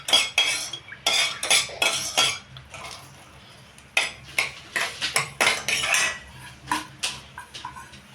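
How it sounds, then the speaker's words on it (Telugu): Onion pieces frying in a pan with cinnamon and cloves, stirred with a metal utensil, bringing repeated close scraping and clinking bursts over a faint background sizzle, with no voices. "ఉల్లిపాయలు వేగుతున్నాయండి"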